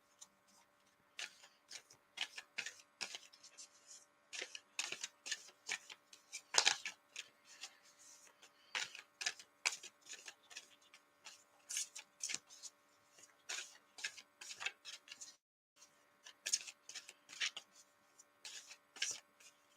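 Tarot cards being shuffled up close, a steady run of crisp riffling and flicking bursts in quick irregular rhythm with brief pauses, alone with no talk.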